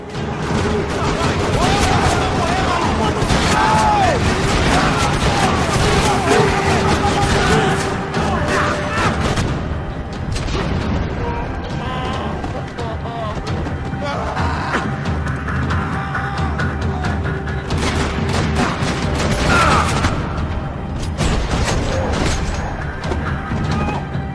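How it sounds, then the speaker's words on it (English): Gunfire rattles across a parking lot in the Max Payne 3 video game: dense, continuous bursts of shots and crashes, loud and close throughout, with a voice briefly heard amid the shooting. "Another parking lot rattling with gunfire."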